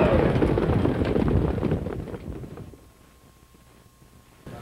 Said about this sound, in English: Red Bow Tie is charging hard for Luke from the back of the pack on the outside